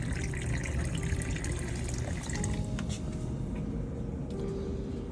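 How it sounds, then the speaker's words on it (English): Water draining out of a residential water heater tank during maintenance, a steady close rushing and gurgling flow of liquid that continues throughout, with faint clanks in the background. "That's probably enough water drained out."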